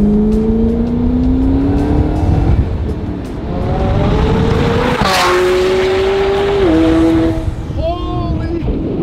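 A twin-turbo 1100 hp Ford GT X1 pulls hard at speed, its loud, close engine note climbing steadily through the gears with sharp shifts and a brief lift near the end, under constant road and wind roar.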